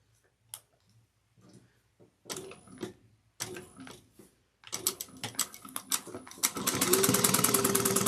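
Sewing machine stitching a tote bag seam with a 3/8 inch seam allowance; scattered clicks and handling sounds at first, then the machine starts with rapid mechanical ticking that builds into a steady close whir.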